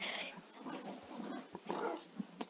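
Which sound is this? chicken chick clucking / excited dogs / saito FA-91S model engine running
excited dogs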